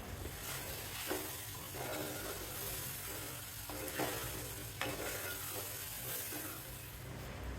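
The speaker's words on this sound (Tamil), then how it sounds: "இதையும் வெண்டைக்காவோடு சேர்த்துட்டு 1 நிமிஷம் வரைக்கும் நல்லா வதக்கிக்கணும்" Quiet sizzling in a pan with repeated scraping strokes of a spatula as okra, tomato and onion are stirred and sautéed.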